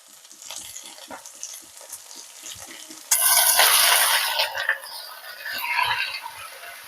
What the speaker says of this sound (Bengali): মাংসটা দিয়ে 1-2 মিনিট এভাবে নেড়ে নেব।